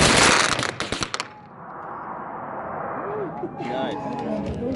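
Close, loud crackling rifle shots ring out at a record-attempt shooting event with about a thousand guns fired together, a burst of overlapping cracks that fades into a long rumbling echo while voices murmur and call out faintly.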